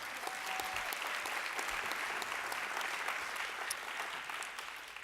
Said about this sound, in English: Round of applause for Modupé, please.